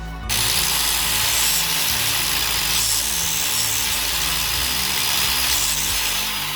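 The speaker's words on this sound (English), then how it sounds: "Next thing we need to do is knock down this edge. It needs to be flat for the tie rod clearance. So we've got our grinder out here." An angle grinder grinds down the edge of a metal part from a C6 Corvette FDF angle kit, a loud, steady abrasive whine running continuously up close with no pauses.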